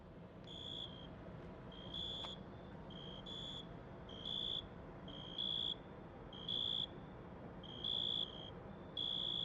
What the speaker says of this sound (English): The sounds of crickets chirping can be heard throughout the area.